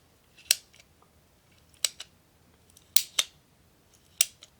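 Cimarron 1873 Single-Action Army revolver cylinder clicking, five or six crisp, sharp metallic clicks spaced irregularly, close and clear against a quiet background.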